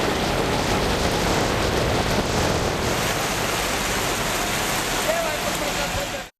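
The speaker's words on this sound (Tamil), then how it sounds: "கனமழை கொட்டியது" Heavy rain pours down steadily during a downpour in the Delhi region, a dense, even hiss of falling water that holds unbroken before cutting off abruptly at the end.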